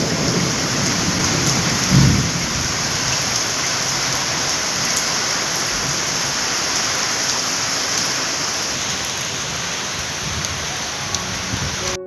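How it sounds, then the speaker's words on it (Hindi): Heavy rain pours down steadily throughout, a dense continuous hiss, with a deep thunder rumble rising near the start; no voices. "यहाँ पर जोरों से बारिश स्टार्ट हो गई"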